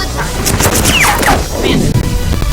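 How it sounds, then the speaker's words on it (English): Cartoonish rapid gunfire and crashing impacts from the video game The Henry Stickmin Collection, loud and dense, with whooshing effects mixed in throughout. "I'll gun him down."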